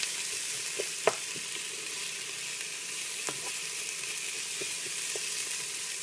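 Onions frying in a pan for butternut squash soup, a steady close sizzle with a few soft stirring clicks and one sharper knock of utensil on pan.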